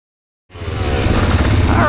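A Husqvarna TE 300 Pro dirt bike engine starts up after half a second of silence, then runs steadily and fairly loud with a throaty low rumble and rough two-stroke texture, close to the listener.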